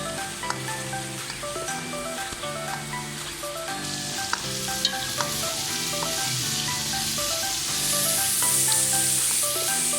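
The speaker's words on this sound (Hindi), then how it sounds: "हल्का सा इसे 2 मिनट और भुनेंगे। जब लहसुन की खुशबू आने लगेगी" Onion and garlic sizzle and crackle steadily in oil in a hot pan, with occasional stirring sounds and soft background music playing underneath.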